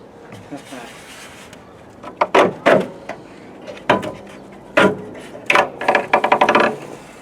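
Repeated creaking and squeaking bursts from a glued-on plastic rear window louver panel on a Camaro being worked loose, irregular and close, with quiet pauses between the strains.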